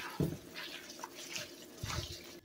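Water runs steadily from a tap while roses and hibiscus flowers are washed, with close splashes and gurgles rising at intervals over the flow.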